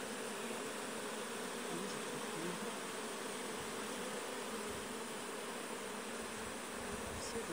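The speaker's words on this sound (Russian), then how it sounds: "Вот заходят, заходит вон пчела вроде большая," A dense, continuous buzzing hum of a honeybee swarm up close as it enters a hive, steady throughout with no voices.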